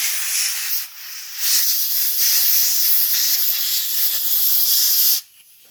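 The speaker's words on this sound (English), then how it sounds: "maybe use some compressed air. Just be careful with it, just to dry this off." Compressed air blasts to dry a metal part from a '92 Mustang GT, a loud steady hiss with a short break near the start before it cuts off.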